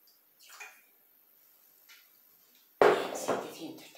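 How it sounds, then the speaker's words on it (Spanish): About 700 grams of water is poured into a Thermomix bowl while making white beans with ribs: a sudden loud splashing gush after a quiet stretch with faint kitchen clicks. "Bien, vamos a poner el agua."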